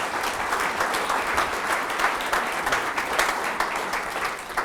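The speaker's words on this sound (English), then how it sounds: "Round of applause to Richard, please." Steady applause from a conference audience fills the room, dense and continuous clapping at moderate loudness with no talk over it.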